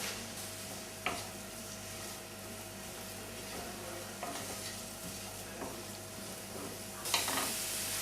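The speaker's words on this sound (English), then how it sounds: "Now that the pan is hot, we add the onion. And fry that until just translucent" Onion fries in a hot pan with a continuous close sizzle, broken by a few sharp clacks of a utensil stirring and a louder burst of hissing near the end, with no voices.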